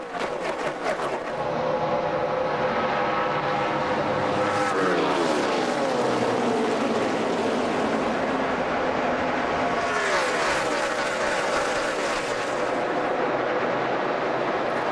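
NASCAR stock cars racing in the 2011 Geico 400, a sustained roar of engines with rising and falling pitch sweeps as packs pass, fairly distant and steady throughout without audible talk.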